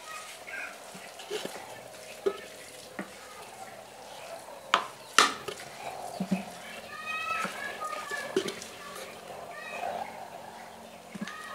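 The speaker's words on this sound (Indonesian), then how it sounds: "Jadi kita aduk dulu sini." A bait mixture for bader merah and baung fishing stirred by hand in a container, with soft scraping and wet squelching amid scattered knocks and background noise, while a voice talks over it.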